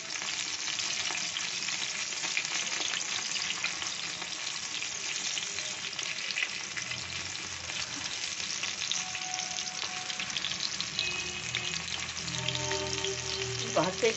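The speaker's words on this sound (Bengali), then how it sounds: "এখন আমি কাঠি ঢুকিয়ে একটু কর্নফ্লাওয়ার হাতে নিয়ে লাগিয়ে ভাজতে দিয়েছি।" Cornflour-coated potato pieces on sticks fry in a flat pan with a steady, dense crackling sizzle that runs the whole time, close and fairly loud, with a few brief stirring or shifting sounds near the end.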